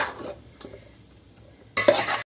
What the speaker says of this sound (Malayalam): നമുക്കിതൊന്ന് മിക്സ് ചെയ്ത് കൊടുക്കാം